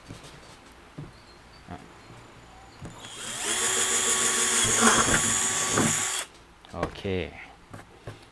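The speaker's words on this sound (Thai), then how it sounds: "เจาะเสร็จแล้วนะครับ ได้รูมาหนึ่งรูละนี่ครับ" A power drill bores a hole in a 20-litre plastic bucket. A high, steady whir runs for about three seconds, with scattered knocks and handling sounds before and after it.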